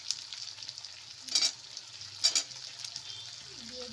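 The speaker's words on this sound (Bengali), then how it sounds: "আমি মাংসটা 10 মিনিট মতো কষিয়ে নেব।" Chicken pieces and potatoes cooking in a pan for a Bengali chicken curry, with a soft steady sizzle and two brief louder bursts of stirring or scraping, no talking.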